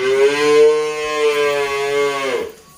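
A young one-year-old Limousin cow at a cattle farm gives one long, loud, close moo with a rich harmonic tone, fading out near the end into quiet.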